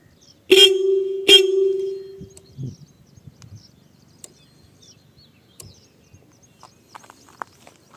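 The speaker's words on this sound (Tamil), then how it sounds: "ஹார்ன் அடிச்சு காமிக்கிறேன்." Two short, loud honks from the horn of a Royal Enfield diesel Bullet motorcycle, the second held slightly longer, close-up with quiet surroundings and faint clicks afterward.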